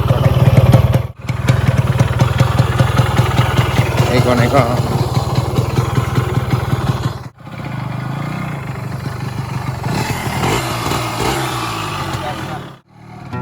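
A 1993 Yamaha RX 100 two-stroke motorcycle engine runs steadily close by, with a pulsing, rattly note and brief cut-outs between revs, while someone talks over it.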